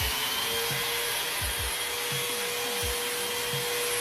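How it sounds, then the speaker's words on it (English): A light-up sander with LED lights works across a wall, a steady whining motor with an abrasive scrubbing rasp and rhythmic rubbing strokes, close and even. "It's easy to see surfaces while you sand them using this light-up sander"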